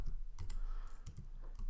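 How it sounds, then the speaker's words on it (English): Computer keyboard keys tapped in quick irregular bursts during HTML coding, close and fairly crisp, with a faint background hum and no talking. "I'm going to type in Marvel Characters"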